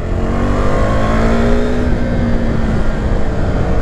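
Husqvarna Vitpilen 401 motorcycle (2020) with a sensitive electronic throttle, its engine revving and accelerating steadily with rising tonal whine, loud and close, no voices.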